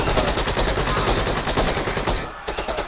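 Sustained automatic gunfire from soldiers in Door Kickers 2: loud, rapid bursts of machine-gun fire roll on without pause, with a brief dip near the end before the shooting resumes.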